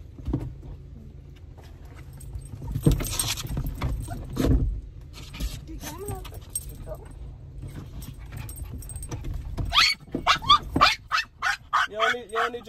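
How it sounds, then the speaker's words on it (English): A dog inside a car nears a school, giving scattered barks and whimpers, then a run of high, rapid yips and whines toward the end, with keys jangling and low background noise. "looking for somebody to bark at already"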